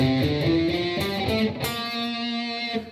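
Overdriven electric guitar plays a short modal phrase with a flattened seventh, gritty sustained notes ringing over a steady low root.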